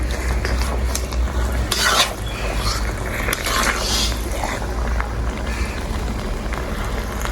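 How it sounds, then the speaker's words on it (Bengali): Oil being stirred into a raw mango pickle, with a spoon scraping and squelching through the thick mix in irregular strokes, loud and close, and occasional clinks against the pot. "তেল দেওয়ার পর আবারও খুব সুন্দর করে মিশিয়ে নেব"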